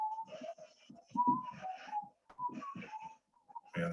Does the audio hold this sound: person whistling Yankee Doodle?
yes